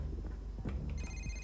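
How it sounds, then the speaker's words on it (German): Telephone ringing in the heist video game Payday 2, a bright electronic ring entering near the end over low game noise and brief thumps. "Telefon."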